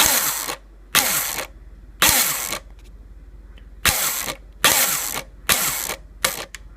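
An ICS M16 DMR airsoft gun fires in short bursts of whirring gearbox cycling, about eight loud mechanical pulses with a low steady hum between them. The sound is close and has no talking.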